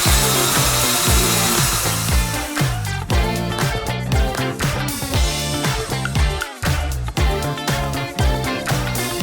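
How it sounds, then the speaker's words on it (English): A loud, continuous whirring drill with a rotating spinner brush scrubbing upholstery, grinding on steadily with brief shifts in pitch. "So now we're gonna work the drill brush onto the surface"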